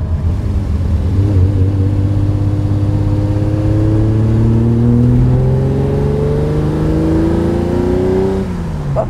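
A 1968 Ferrari 365 GT 2+2 with a V12 engine accelerates hard, its loud, close engine note climbing steadily in pitch through the gear, then dropping briefly near the end.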